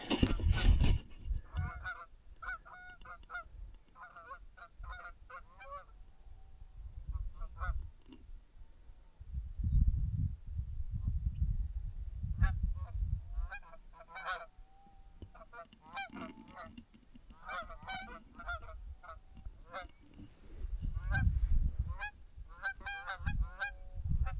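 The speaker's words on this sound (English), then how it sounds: "looking for my other goose, and John and Sam have some more geese working in." Geese honk repeatedly in ragged bursts during an early-season goose hunt in a North Dakota field, some calls close and loud, others farther off, with gusty wind rumbling underneath.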